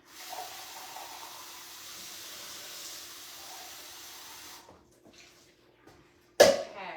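Tap water runs steadily into a kitchen sink for food rinsing during live home cooking, a constant hiss lasting several seconds before cutting off, followed by a short quiet gap and a brief loud splash at the end.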